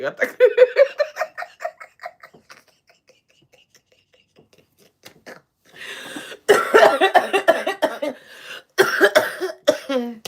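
Laughter and a voice at first, then a pause, followed by bursts of coughing mixed with giggling and speech.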